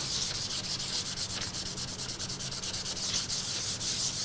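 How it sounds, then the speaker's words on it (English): Steady 320-grit sandpaper rubbing across the wooden body of a Martin 00-style acoustic guitar, a continuous close hiss with slight stroke-to-stroke swells, heard alone without talk. "I think I'm safe to grab some 320 and just sand away some of the color in the middle"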